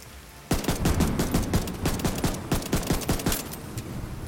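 Gunfire in The Division 2 breaks out suddenly after a brief lull: a loud, close stream of rapid automatic shots that rattles on steadily to the end.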